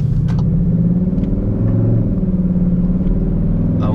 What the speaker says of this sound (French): Un grognement qui se met en route et qui vient des haut-parleurs.